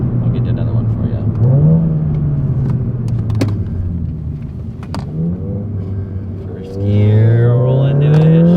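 VW GTI with an IS38 turbo upgrade accelerating hard from about 40 to 80 mph: loud, close engine drone climbing in pitch through the gears, with a shift and renewed rising pull near the end.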